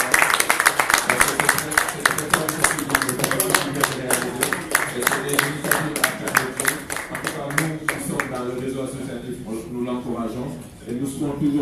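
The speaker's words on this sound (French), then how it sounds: "Je vous demande de l'applaudir." An audience applauds an association president at a closing ceremony of a conference, rhythmic clapping ringing loud and close for several seconds before thinning out, with no talk over it.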